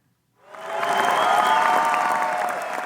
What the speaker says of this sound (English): Applause broke out as soon as she finished.